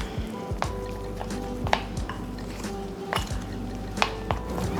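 Red food colouring being mixed by hand into buttercream produces soft wet squishing and scraping in a bowl, with occasional sharper clinks of a utensil against the bowl at an uneven pace.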